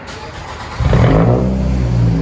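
A 2010 Scion tC with muffler and resonator deleted and straight-pipe exhaust revs up sharply, its loud, raspy drone jumping in and holding steady, very close.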